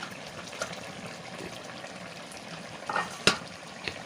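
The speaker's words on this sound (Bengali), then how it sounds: "ঢাকনা তুলেই দেখুন কি সুন্দর ফুটছে" Aubergine curry (begun bahar) bubbles in a pot as the lid comes off, a soft steady simmer with a few sharp clinks of the lid or utensil near the end.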